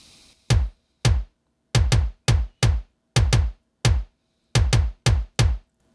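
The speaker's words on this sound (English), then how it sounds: "And here I am using Billy Decker's Savage Kick sample." Kick drum sample from Billy Decker's Savage Kick pack, played dry with no processing, in a mix of a cover song: twelve loud, punchy, deep thumps with sharp attacks in an uneven rhythm, isolated with no voices.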